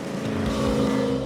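A Camaro's engine drones steadily at high revs on an autocross course, a sustained mechanical roar with no voices over it.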